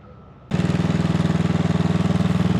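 A 1957 Gard'n Mast'r garden tractor's small engine bursts to life and runs loud and close with a rapid, steady chugging beat.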